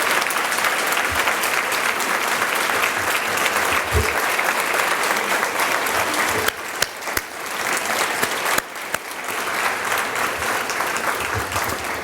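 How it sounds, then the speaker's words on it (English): Event audience gives a loud, sustained round of applause for standing benefactors, a dense wash of many hands clapping continuously for about twelve seconds, with a few brief dips and no speech. "give you the round of applause you deserve"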